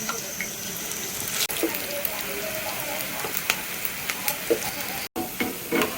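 Small kadhi pakoras deep-fry in oil with a steady, close sizzle and light crackle, punctuated by a few brief clicks and a short dropout.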